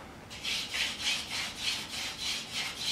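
Wooden hand-drill spindle spun between the palms for a friction fire, giving rhythmic, evenly spaced scraping rubs of wood on wood, about six strokes in three seconds, close and steady with no talking.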